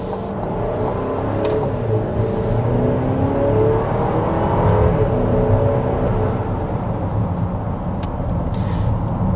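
A 2025 Buick Enclave Avenir SUV's engine drones steadily as it accelerates, a continuous loud rumble with rising revs and no talking.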